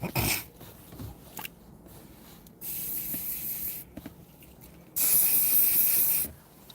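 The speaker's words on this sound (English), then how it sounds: "I gotta spray this car because I'm about to take my wife to Chick-fil-A." A car is sprayed in two sustained hissing bursts, the second louder and closer, with quieter rubbing and handling noises between them and no talking.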